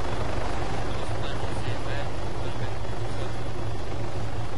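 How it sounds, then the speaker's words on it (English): Helicopter in the Arma 3 video game, a steady rotor and engine drone running continuously at a constant level, with people talking over it. "Finn is in a helicopter. He's flying."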